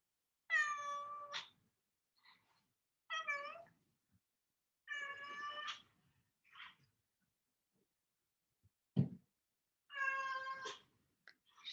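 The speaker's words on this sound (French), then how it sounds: "suis désolée, mon chat a un problème." A house cat meows four times at a steady pace, each call drawn out and close but fairly quiet, with short silences and a soft thump between them and no speech.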